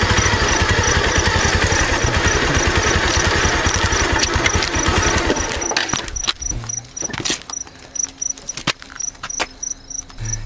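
A motorcycle engine runs during a cold night ride, giving a loud, steady, pulsing drone for about six seconds. It then breaks into choppy, intermittent bursts.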